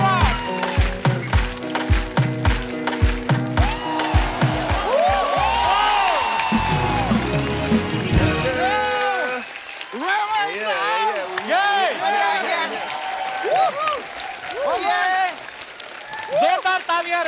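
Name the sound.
studio audience applause and cheering for Rema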